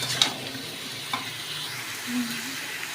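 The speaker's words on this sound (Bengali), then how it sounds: "ভালো করে নেড়ে ছেড়ে একটু কষিয়ে নেব" Ekadashi-style vegetables being stirred and sautéed with rock salt in a pan, a soft, quiet sizzle with faint scraping strokes of the spoon throughout.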